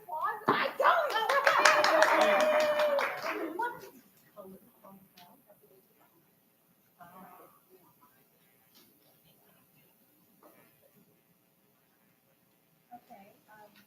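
A short burst of clapping from a small group at a board of education meeting, lasting a few seconds, then fading into quiet with occasional faint shuffles and taps.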